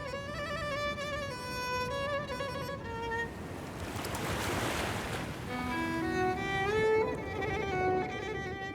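Sea waves washing in as the tide returns over a shoreline of rock pools and corals, a broad surging wash that swells and recedes, heard under a layer of musical tones.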